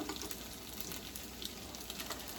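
Salmon patties frying in a frying pan give a steady, close sizzle with a dense crackle that holds at an even level for the whole stretch, with no talking over it.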